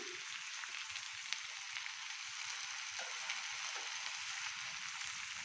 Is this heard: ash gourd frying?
yes